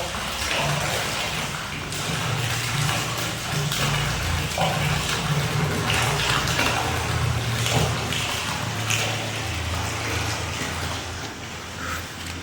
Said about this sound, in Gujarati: મિત્રો પાણી આવવા મળ્યું છે ટાંકામાં